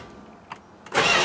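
A Mopar concept car with a worn-out starter: a couple of faint clicks, then the engine cranks and catches in a loud, close burst.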